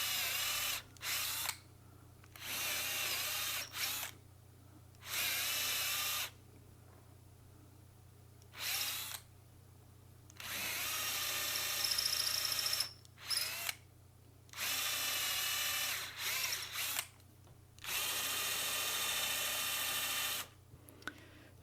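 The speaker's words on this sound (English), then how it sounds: "I set the depth by putting this tape onto the drill so that I know how far I can go." A power drill with tape marking the depth bores bolt holes into an acoustic guitar neck in repeated bursts of whirring, each lasting a second or several, separated by short pauses.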